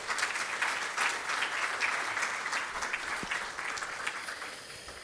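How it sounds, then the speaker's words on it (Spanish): Sustained applause from a large audience fills a university hall at a law thesis lecture in Lima, dense and steady for several seconds, tapering slightly toward the end with no speech. "para quien pedimos un fuerte aplauso"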